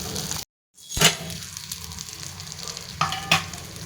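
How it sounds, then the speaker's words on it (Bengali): Potatoes sizzle and fry in a spice masala in a pan, with stirring scrapes and a brief clatter among the steady sizzle and a short cut to silence near the start. "এবার আলুগুলোকে দিয়ে দিলাম মশলার মধ্যে।"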